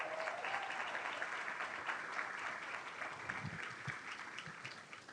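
Audience applause fills a fundraising banquet hall, steady and sustained clapping from a large crowd that continues evenly throughout before tapering slightly at the end.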